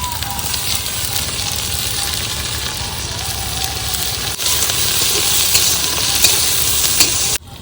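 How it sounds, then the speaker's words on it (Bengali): Onions, whole spices, dry red chillies and bay leaves fry in hot oil for a chicken dish, giving a steady loud sizzle with crackling and stirring that swells slightly midway before cutting off. "গোটা গরম মশলা দিয়ে দিলাম তেলে, শুকনো লঙ্কা, তেজপাতা, পেঁয়াজ দিয়ে দিলাম।"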